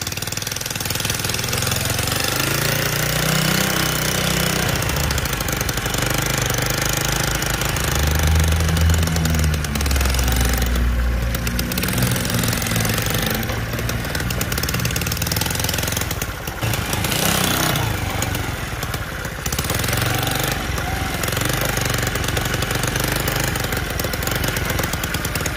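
A 1969 Honda CT90 fitted with a 140cc Piranha engine runs with a loud, close, rough-edged putter, its pitch swelling and falling as throttle is applied and eased, with no talking throughout.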